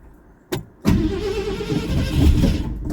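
A truck engine starts in cold weather: two sharp cranking clicks, then the engine catches and settles into a loud, rough idle close by, without any speech.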